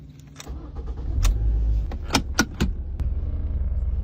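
A car heading out on a test drive after a repair gives a low engine rumble, a few sharp mechanical clicks and knocks, and then a steady running hum.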